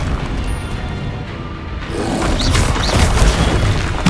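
Confringo explosive spell blasts in the Hogwarts Legacy video game, heavy booming impacts with crashing debris and a whooshing swell, loud and close, layered over busy game effects with no talk.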